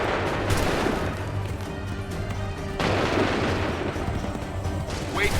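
Musket volleys and gunfire in Assassin's Creed III fill the scene with dense, continuous booming and crackling, then a fresh loud burst of shots partway through.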